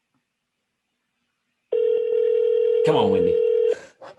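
A phone call rings out to a property manager's line: a steady ringback tone sounds for about two seconds, with a voice speaking briefly over it partway through.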